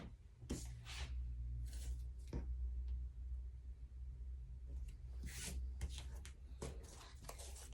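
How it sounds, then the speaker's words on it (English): Tape being pulled and pressed onto fabric while fitting a recessed zipper into a sewn backpack, heard as several short ripping and rubbing bursts against a low steady background hum, fairly close. "I'm going to add some tape."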